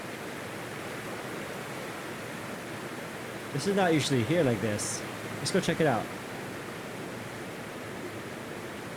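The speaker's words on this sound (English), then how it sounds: "I really like the sound effects of the waterfalls on this list. It's so loud." A loud waterfall in modded Skyrim pours as a constant broadband roar filling the whole scene, with someone talking briefly over it midway.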